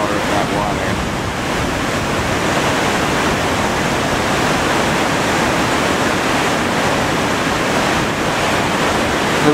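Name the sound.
rushing water of a waterfall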